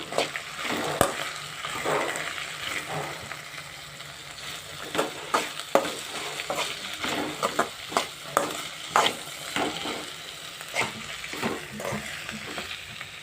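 Okra fry with peanuts and salt is stirred in a pan, with a constant close sizzle and repeated rhythmic scrapes and knocks of the spatula against the metal, and no voices.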